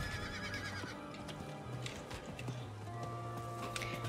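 A horse neighs and whinnies amid clip-clopping hooves in Diablo IV, the in-game sound fairly quiet and layered over a busy background of other game noises.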